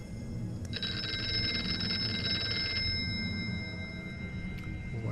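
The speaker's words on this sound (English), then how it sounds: "And a ringing phone." Telephone ringing in the horror video game Here They Lie, a bright electronic bell trill lasting about two seconds before stopping, set over a low murky ambient drone.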